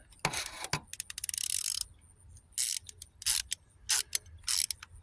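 A ratchet wrench with a deep socket works a nut on a 1995–2001 Ford Ranger 2.5 engine during a timing belt job, giving a fast run of clicks followed by several separate short bursts of ratcheting, close and crisp.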